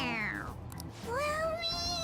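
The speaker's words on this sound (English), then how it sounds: "It meows when you press on its head." A stuffed toy cat from Persona 5 Royal gives two distinct synthetic meows when its head is pressed, the first falling in pitch, the second rising then held, loud and close over a steady background hum.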